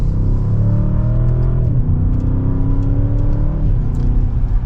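A 2024 Audi S8 with its 4.0-litre twin-turbo engine pulls hard from second gear, a loud steady rumble rising in pitch through two upshifts with brief dips at each change, heard from inside the cabin without talk.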